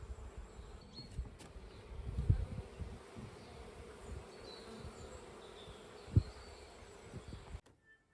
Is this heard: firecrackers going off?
no